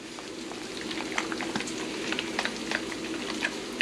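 Onions sizzle and crackle steadily in a pot, with scattered pops and spits over a continuous hiss, no talking.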